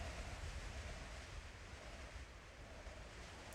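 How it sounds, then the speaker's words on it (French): Steady, loud rushing wind recorded during a spacecraft's descent to the surface of Mars roars continuously and unbroken from start to finish, with no voices. "vous entendez le vent"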